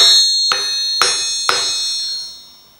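A hammer strikes the horn of an anvil three times at half-second intervals, each blow leaving a long, high-pitched, bell-like ring that sustains clearly and slowly fades after the last hit, with no voices.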